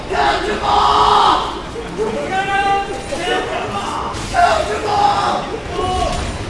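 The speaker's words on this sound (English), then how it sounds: "There's a lot of yelling happening from the game." Characters in a League of Legends finals match shout and yell in loud, overlapping bursts, a busy game mix of battle cries and voices that fills the whole stretch without a break.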